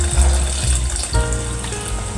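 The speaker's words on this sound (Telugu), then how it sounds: "ఇప్పుడు ముందుగానే మనం కొంచెం నానబెట్టి ఉంచుకున్న చింతపండు రసాన్ని వేసేద్దాం." Soaked tamarind juice pours into a pot of cooking cucumber dal, a short close gushing splash of liquid that briefly shifts in tone partway through.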